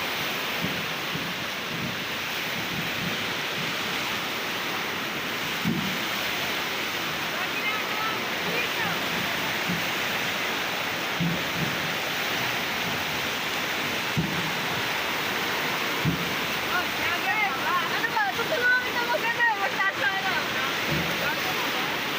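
Rushing floodwater in Bulacan, a steady loud broadband roar that continues without a break, with faint voices and scattered knocks beneath it.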